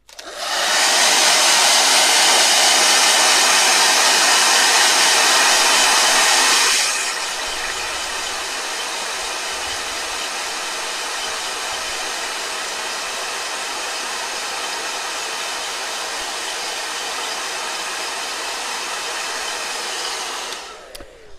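A blow dryer runs continuously over a watercolor painting, a loud close whooshing roar that drops to a lower, steadier setting partway through and keeps going until it shuts off, with no talk.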